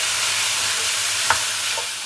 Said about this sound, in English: We're adding the mince in now